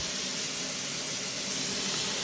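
A steak sears in a hot pan with a steady, close, broadband sizzle and hiss, continuous and even throughout.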